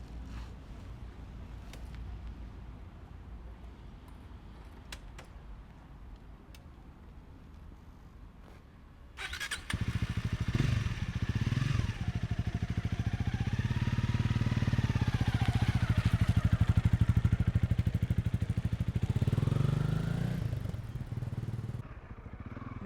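A Honda CRF 300 Rally motorcycle ridden through the town of Pniel, its engine quieter at first, then a loud, steady close engine note with shifting revs and wind rush for most of the ride.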